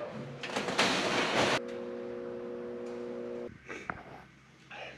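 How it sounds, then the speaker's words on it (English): A door on a Rotax 912iS cabin is slid open with a broad, rumbling scrape lasting about a second. A steady tonal hum follows, then a few small clicks and knocks. "I gotta open this door up a little bit."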